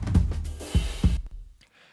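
Floor tom drum track with volume automation, blended with Slate Trigger 2 samples: three deep, resonant hits at an uneven pace, close and fairly loud, then the sound fades to near silence.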